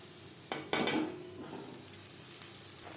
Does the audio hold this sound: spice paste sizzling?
yes